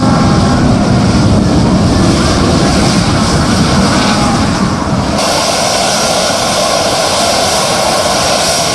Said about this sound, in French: un avion estampillé République du Mali caresse la piste d'atterrissage